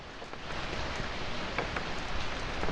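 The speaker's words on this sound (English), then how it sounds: "Let's actually make it rain though." Steady rain in The Sims video game, hissing evenly with scattered drops pattering, soft and continuous, nobody speaking.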